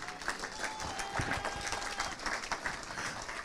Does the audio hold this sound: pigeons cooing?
no